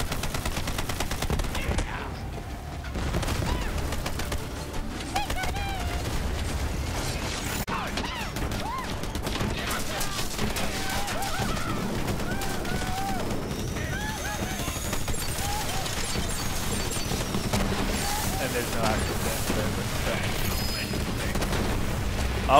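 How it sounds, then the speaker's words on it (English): Continuous bursts of gunfire in the video game Borderlands 3, rapid and layered with mechanical clatter, running throughout at a steady loud level. "All I hear is gunfire"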